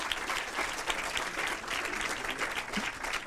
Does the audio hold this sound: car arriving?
no